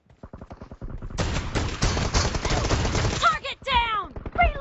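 Shotgun blasts in a BGMI team deathmatch come as a quick run of loud, close reports that merges into a dense burst of gunfire, followed by a few sharper shots at the end.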